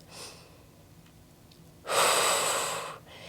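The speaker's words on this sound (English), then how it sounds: "and breathing out, using that breath" During a full-body workout, a person takes a few faint breaths, then lets out one loud, close, rushing exhale that lasts about a second, with no talking.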